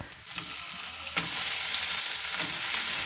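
Chicken pieces hit a pan of frying ginger-garlic paste for a Bengali chicken stew, producing a bright, continuous sizzle with a sharp clatter near the start.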